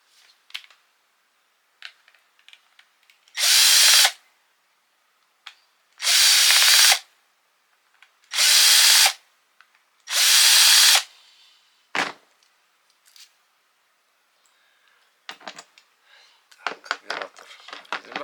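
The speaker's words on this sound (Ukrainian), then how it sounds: "Відкручуємо тих 4 болта." A power drill unscrews the four bolts holding a brushcutter carburetor, in four loud, steady whirring bursts of about two seconds each with short pauses between them, followed by light clicks and handling of metal parts.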